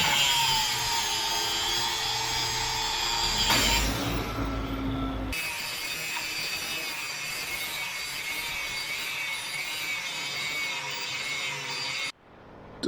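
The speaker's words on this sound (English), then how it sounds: "I'm gonna grind out the cracks until I find good metal" An angle grinder grinds out cracked welds on a steel trailer, a loud continuous abrasive whine and rasp that shifts pitch as the disc bites, running almost the whole time before cutting off near the end.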